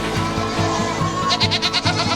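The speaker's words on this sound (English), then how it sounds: "And these are all the milk goats." A herd of milk goats bleats close by, several overlapping calls in quick succession on a farm.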